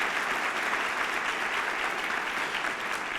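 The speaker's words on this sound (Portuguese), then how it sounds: "Vamos dar mais uma salva de palmas" A church congregation applauds first-time visitors in a dense, steady round of clapping that fills the room, moderately loud, with no voices over it.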